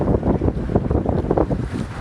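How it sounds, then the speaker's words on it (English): A sailboat running straight downwind under jib alone in Greece's Saronic Gulf, with steady broadband wind buffeting the microphone and water rushing past the hull, continuous and fairly loud throughout. "we're just going downwind, straight downwind pretty much, and with just the jib up"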